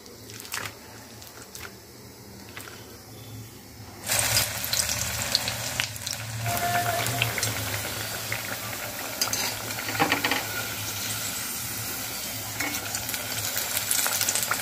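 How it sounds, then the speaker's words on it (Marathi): Vada fry slowly in hot oil, a soft, steady sizzle that starts quietly and grows fuller and louder after a few seconds, continuing close by. "छान आणि मंद असं तळून होत आहे आपलं हे"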